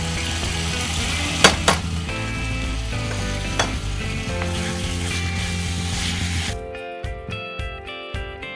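Chicken masala sizzling and frying in a pan with chilli powder, garam masala and turmeric added, a steady loud crackle with a few stirring clinks, quieter after a cut near the end.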